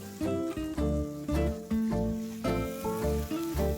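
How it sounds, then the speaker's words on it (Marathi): Green chutney paste of green chilies, cashews and yogurt sizzles in hot oil as it is stir-fried for chicken lapeta, with a steady frying hiss under loud, rhythmic tonal music that drowns much of it. "आता ही हिरवी चटणी आपण चांगली परतवून घ्यायची."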